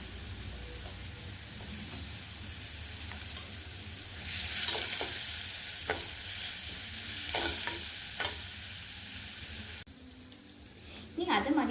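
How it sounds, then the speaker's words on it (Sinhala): Green chilies, pandan leaf and curry leaves sizzle and fry steadily in a hot pan, with a brighter burst of frying midway, scattered stirring clinks, and a sink or tap noise near the end. "ඊට පස්සේ අමු මිරිස්, සම්පතික රම්පේ, කෑල්ලක්, කරපිංචා ඒ ටික මම දාලා හොඳට මේක ටෙම්පරාදු කරගන්නවා."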